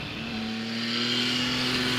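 A Benelli motorcycle engine runs steadily and loudly up close, holding a strong constant note with a slight rise in intensity, with no voices over it.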